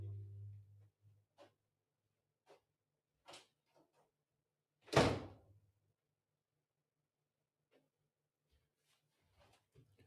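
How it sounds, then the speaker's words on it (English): A single sharp door slam, loud and close, stands alone in a quiet room, followed by a few faint knocks and small scattered sounds. "is nothing more than a door slam"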